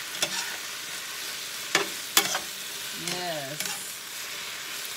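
Ingredients sautéing in a pan for chicken Alfredo, a soft continuous sizzle broken by a few sharp utensil clinks and scrapes, with a brief spoken word partway through.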